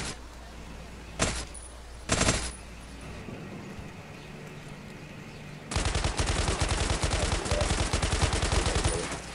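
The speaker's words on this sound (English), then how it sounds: "Somebody's shooting up at me." Video game gunfire in a prison village: a few isolated loud shots early on, then a sustained rapid burst of automatic fire under brief talk.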